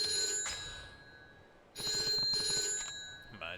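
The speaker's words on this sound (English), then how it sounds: "phone's ringing" A phone in Yakuza 3 Remastered rings in two bright electronic bursts of rapid trilling tones, separated by a short pause, fairly close and clear, without speech.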